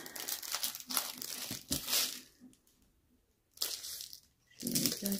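Plastic packaging from an online craft haul crinkles and crackles in short bursts as it is opened up close, with pauses between handling and no talk.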